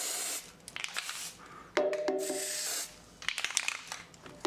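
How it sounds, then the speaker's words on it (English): Lithium grease sprayed from an aerosol can into a car's brake pad area: short bursts of hissing spray, with a longer, louder burst in the middle. "So lithium grease, pretty much what we're using around here. So let's try to get it. However, it's not easy to spray in there."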